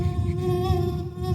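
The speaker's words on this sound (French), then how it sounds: "Allez-y, chassez le moustique." At a stage hypnosis show, a mosquito buzzing sound effect plays as a steady, thin, whining drone that holds for over a second.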